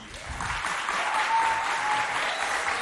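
Schoolchildren and audience clap for students at a school quiz contest, a sustained, even round of applause heard close and continuous with a faint tone running briefly through it.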